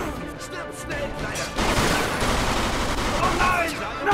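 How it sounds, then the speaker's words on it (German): Shotgun blasts boom in the Mafia 2 video game, loud dense bursts that fill the clip. "Schrotflinte!"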